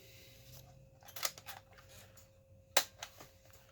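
A toy foam blaster fires in a quiet indoor setting, making two sharp, close mechanical clicks or pops about a second and a half apart, with softer handling taps around them.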